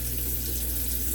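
Water sprayed from a spray bottle onto a permateased synthetic wig, a short, continuous hissing spray at close range, steady and alone.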